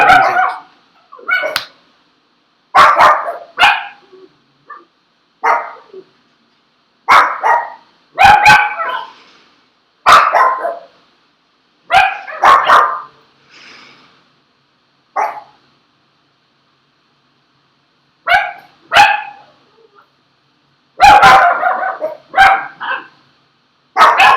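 Dogs bark repeatedly in irregular bursts of several sharp barks, separated by brief pauses, fairly loud and close, with no talking over them.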